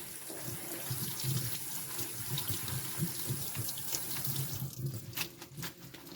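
Kitchen tap water running into a sink to rinse food during chicken alfredo meal prep, a steady close splashing stream with small clatters toward the end.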